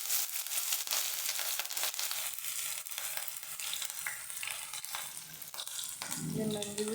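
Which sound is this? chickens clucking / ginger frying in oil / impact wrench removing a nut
ginger frying in oil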